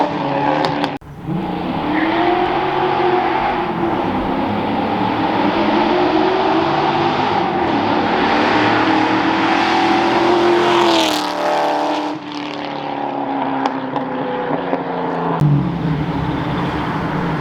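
A Fox-body Ford Mustang with a custom Black Widow Widowmaker exhaust roars steadily nearby, rising and falling as it revs and drives, with a brief drop and shift partway through.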